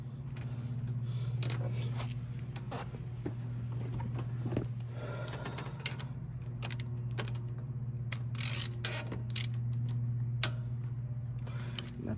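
Tightening the quick-disconnect oil drain on a Kawasaki FR600V engine: a series of short metallic clicks and ratcheting taps, close by, over a steady low engine-like hum that runs throughout.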